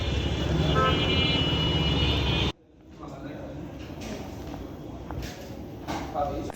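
Busy street traffic beside Narayanganj Club while someone waits to cross the road: loud continuous roar at first, then an abrupt cut to quieter mixed vehicle noise with occasional horn toots and background voices.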